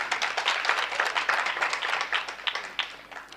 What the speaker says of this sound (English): Let's just give me a round of applause.